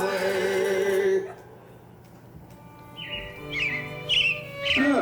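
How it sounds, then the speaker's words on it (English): Animatronic robins chirp in the Carousel of Progress show at Magic Kingdom, a few bright, whistly tweets arriving in quick bursts after a sustained tone fades, fairly close and clear. "It looks like the Robins are getting ready to celebrate Valentine's Day today"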